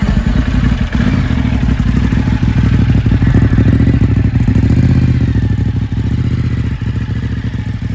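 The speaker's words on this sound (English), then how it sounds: "let me just start it so you can hear the exhaust" Ducati Hypermotard 939 SP motorcycle idling after starting, its exhaust a loud, steady, close rumble with a fast pulsing beat and a mechanical clatter, running alone throughout.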